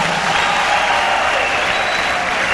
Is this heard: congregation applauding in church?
yes